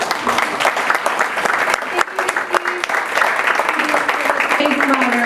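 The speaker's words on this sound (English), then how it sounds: "We give them a round of applause." Sustained audience applause fills a conference hall after an opening panel on student voice, steady and dense throughout, with a few voices murmuring underneath.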